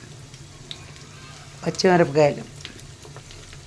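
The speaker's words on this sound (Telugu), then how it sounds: "ఆ వేయించటం మీరు కూడా చూస్తారని నెమ్మదిగా వేయిస్తున్నాను." Ravva pulihara ingredients fry slowly in a pan, giving a steady soft sizzle throughout while a voice speaks briefly in the middle.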